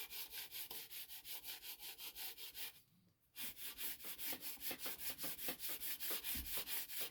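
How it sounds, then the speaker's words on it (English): Sanding a thin wooden model aircraft by hand, a quiet rhythmic run of back-and-forth scraping strokes, briefly pausing near the middle before the even strokes resume. "Trying to keep it going all the way across, make sure I fully sand the model."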